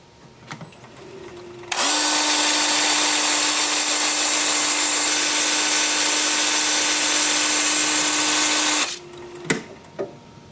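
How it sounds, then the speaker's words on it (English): A 2-inch sanding disc on a power drill sands an ironwood goblet. It starts with a steady, loud, high whirring hum that holds for about seven seconds and then stops, with clunks of handling before and after. "So 2-inch sanding disc, 80 grit, up through 150, 180."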